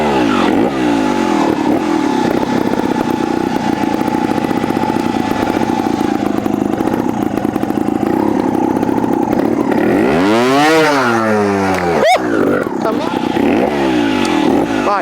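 A 2024/25 Vertigo RS2 trials motorcycle revs hard in second gear, its engine note droning loud and close throughout, swooping up and down in pitch near the end with a sharp blip.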